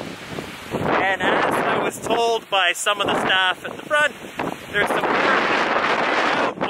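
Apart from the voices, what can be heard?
wind blowing outdoors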